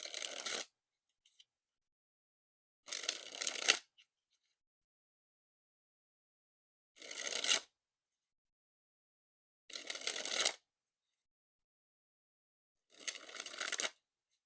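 Five separate bursts of brand-new, slippery Theory11 red Star Wars dark side playing cards riffling as they are dribbled from hand to hand, each a quick close flutter lasting under a second, separated by silence.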